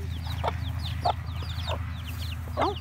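Broody hens clucking close by in a steady series of soft, repeated clucks and a few squawks over a low rumbling background.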